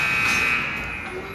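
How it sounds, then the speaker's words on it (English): Arena buzzer sounding at the end of the second period of a youth AAA ice hockey game, a loud steady electronic tone held throughout amid rink crowd noise. "there the buzzer is going to bring the end of the second period"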